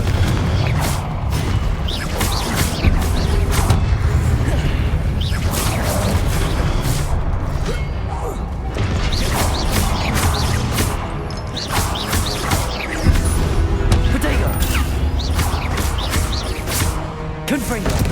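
Repeated blasting-spell explosions from Hogwarts Legacy, loud booms and crashes in dense succession amid constant game combat noise and occasional voices.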